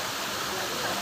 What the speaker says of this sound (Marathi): बघा धबधबा जोरात वाहतो वरून.